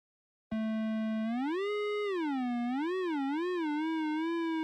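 A pure synthesized sine-wave tone starts abruptly, holds steady, then its pitch slides up and wobbles up and down in a warbling sweep.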